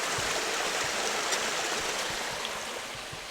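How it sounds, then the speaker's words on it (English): Steady, close rush of a small waterfall spilling between boulders into a little pond along the Gibb River Road, a continuous broadband splash with no voices over it. "A bit of a waterfall."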